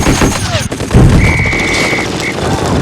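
Gunfire from a nighttime war-drama battle scene with tracer rounds, heavy bursts and booms played loud through a TV, mixed with dense battle noise.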